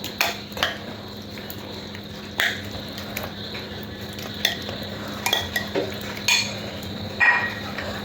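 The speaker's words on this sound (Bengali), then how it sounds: "ভালো করে চিকেনটা মিশিয়ে নেব।" Marinated chicken is stirred into a spice paste in a pot, with soft wet squelching and repeated sharp scrapes and clinks of a spoon against the vessel, close and fairly quiet, with no talking.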